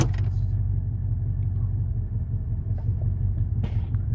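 An old car pulled from a barn starts rolling, its engine giving a low, steady rumble close by, broken by a few faint clunks and rattles and no talk.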